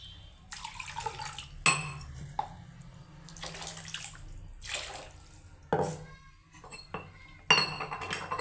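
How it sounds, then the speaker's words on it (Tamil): Water poured into a pot of okra tamarind curry in a home kitchen, heard as repeated bursts of splashing and pouring with metallic clinks of the pot between them, close and fairly clear with no talking. "தேவையான அளவு தண்ணி ஊற்றிக்கலாம்."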